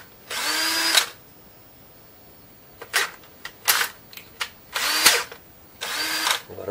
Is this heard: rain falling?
no